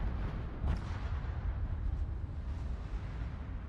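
Heavy rumbling blasts and booming explosions from torpedo hits in the naval battle game World of Warships, a loud continuous roar of detonations with sharper cracks near the start.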